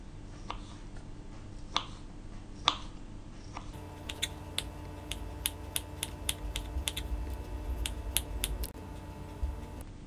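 Knife slicing sausages into rounds about half a centimetre thick on a cutting board, a steady run of crisp, close clicks and taps that quickens into a regular rhythm partway through, with no talking.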